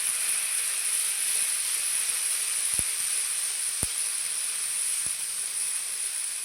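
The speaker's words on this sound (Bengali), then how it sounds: "বাদাম দেওয়া আছে তাই কিন্তু একটু ছিটকে ছিটকে আসছে।" A spice paste made with ground nuts fries in a pan for a pointed gourd dish, giving a steady close sizzling hiss broken by a few sharp, separate spattering pops.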